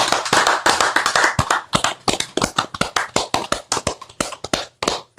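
A small group in a radio studio claps after a show sign-off, starting as dense overlapping applause and thinning into scattered, uneven claps over five seconds, close and loud.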